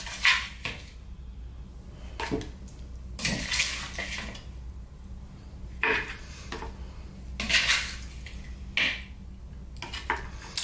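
Seasoned lamb pieces are dropped and shifted into a tagine pot, giving intermittent soft thuds, scrapes and clinks of utensils against the pot at irregular intervals, close by in a quiet kitchen.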